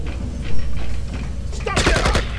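In Project I.G.I.: I'm Going In, a burst of rapid gunfire bangs erupts near the end, preceded by a steady low rumble and faint background noise.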